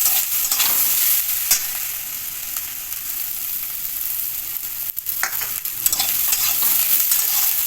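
A spiced vegetable chop mixture with fried masala and chopped coriander leaves is stirred in a frying pan, with loud continuous sizzling and scraping strokes and a brief dip in the middle.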